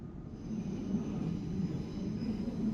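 A narrow gauge train on the single-track line between Bilbao and San Sebastián rumbles steadily at the town of Eibar, a low continuous rolling drone with a faint high whine, no talk.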